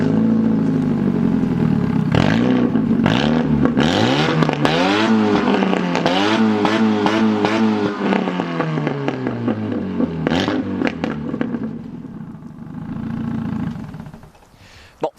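A Chevrolet Aveo engine runs close by and is revved repeatedly in rhythmic bursts, the pitch climbing and falling with each blip before easing back toward idle near the end.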